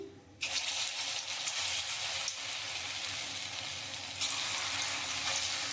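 Prawn fritters made with turmeric, chilli powder and rice flour fry in a wok of hot oil, giving a steady, loud, close hiss that starts abruptly and continues throughout.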